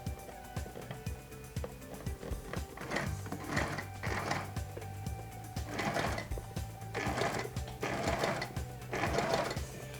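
A sewing machine runs in several bursts while stitching the front panels of men's native trousers, its rapid close whirring needle rhythm starting and stopping with brief quiet gaps between runs.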